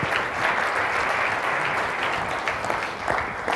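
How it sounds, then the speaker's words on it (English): A conference audience in San Francisco claps in a sustained burst of dense, even applause that swells slightly and continues throughout. "deserve a huge round of applause"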